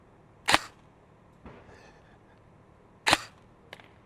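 A G&G SSG-1 AEG airsoft gun fires at a target, two sharp, close snapping shots about two and a half seconds apart, each followed by fainter clicks and mechanical rattles in a quiet setting.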